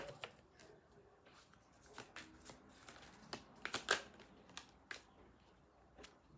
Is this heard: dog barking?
no